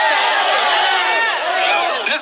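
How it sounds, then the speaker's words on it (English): A large rally crowd in Iowa cheers and applauds in a dense, steady roar, with scattered whoops and shouting voices rising above the mass of sound. "let's give them a round of applause"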